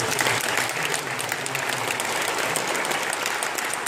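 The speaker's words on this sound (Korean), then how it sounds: "우리 사랑하는 우리 성도님들에게 한번 박수해 주시죠" A church congregation applauds with dense, continuous clapping from many hands, loud and steady from start to finish with no voice over it.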